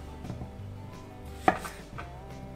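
A knife cuts potatoes into wedges on a board: soft slicing sounds and one sharper chop, close up, in a quiet kitchen.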